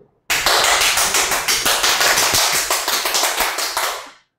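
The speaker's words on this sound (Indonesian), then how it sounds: "terima kasih tepuk tangannya yang sangat keras ya dari teman-teman yang ada di sini" An audience at a university biomedical sciences graduate program event breaks into loud, energetic applause that starts abruptly, holds at a dense steady clatter of claps for about four seconds, then stops.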